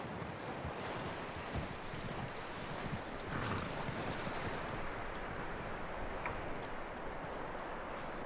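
Horse hooves clip-clopping steadily in Red Dead Redemption 2, an even walking rhythm of hoofbeats over a continuous outdoor background, with no talk.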